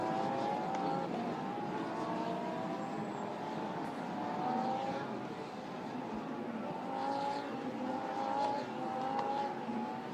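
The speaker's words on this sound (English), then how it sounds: "the cars generating a little bit of temp as they weave left and right down towards turn 1" Lamborghini Super Trofeo race cars run toward turn 1 at the 4.6 km Barcelona circuit, their engines sounding as a continuous, moderately distant drone with rising and falling pitch sweeps as they weave, and no talk.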